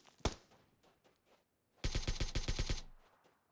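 Gunfire from the mobile battle-royale game PUBG Mobile: a single sharp shot, a few faint scattered pops, then a rapid burst of about eight close shots before fading.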